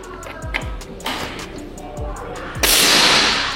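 A PCP air rifle fires, a few sharp close snaps and clicks spaced over a few seconds, ending with a louder burst of hiss and noise.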